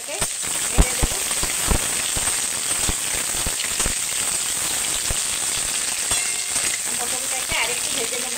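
Pointed gourd (potol) fries in a pan with a continuous crackling sizzle, punctuated by sharper pops and spatters scattered throughout, heard up close without talk.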